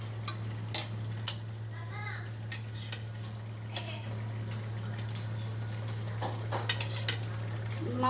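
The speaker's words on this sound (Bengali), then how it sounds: "একটা একটা করে মাছ দেওয়া হচ্ছে।" Pieces of pomfret fish go one by one into a frying pan of spiced gravy for a Bengali pomfret curry. Soft sizzling and bubbling runs beneath scattered clinks and clatter of utensils, over a steady low hum.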